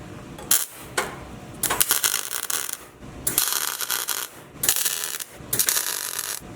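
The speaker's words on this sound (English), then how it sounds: "now I'm just going to just tack weld the corners and go from there" Tack welding the corners of a patch panel during rust repair on a Jeep Wrangler YJ body: several loud, close crackling bursts, each about a second long, separated by brief pauses.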